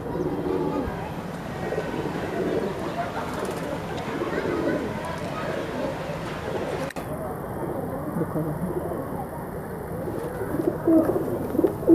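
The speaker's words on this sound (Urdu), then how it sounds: "ماشاءاللہ بہت ہی شاندار کبوتر ہیں۔" Teddy and breeder pigeons kept for sale coo steadily in a low, continuous murmur throughout, fairly close, with a brief rustle near the middle and faint talking in the background.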